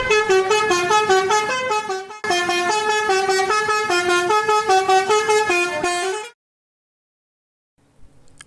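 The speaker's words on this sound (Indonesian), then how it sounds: "Bis tayo telolet nih." A Tayo toy bus plays its telolet horn tune, a bright repeating electronic melody of stacked tones that runs loud for about six seconds with a short break, then stops into near silence with a faint thump at the end.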